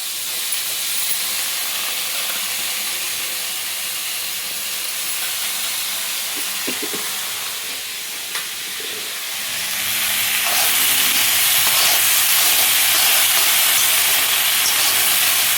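Cut potatoes frying in hot oil in a pan for poha, a broad steady hiss that swells louder partway through and then holds, continuous and close with no talking.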